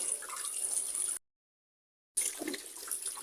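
Tap water runs steadily while pangas fish are washed, a continuous splashing stream that cuts to total silence for about a second and then resumes.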